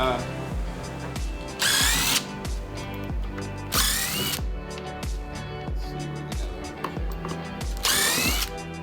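A power drill unscrews the screws holding cabinets beneath a subdeck, in three short whirring bursts spread across the clip over a steady low mechanical background.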